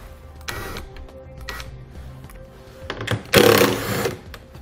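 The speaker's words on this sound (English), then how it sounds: "We'll then use our 10mm socket to remove the hardware" A 10mm socket is used to remove bolts on a 2014 BMW 3 Series. Short bursts of ratcheting and clicking are heard close by, ending in a louder rattling burst.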